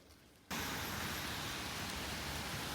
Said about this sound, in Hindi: बारिश हो गई स्टार्ट।